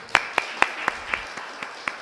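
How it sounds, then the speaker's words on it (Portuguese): Sparse church-assembly applause welcoming a reverend to the stage, a handful of separate claps in an even, slow rhythm, faint and somewhat distant, fading after the first few. "Vamos recebê-lo com Thank palmas."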